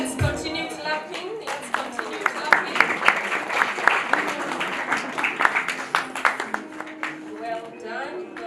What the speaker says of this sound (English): let's continue clapping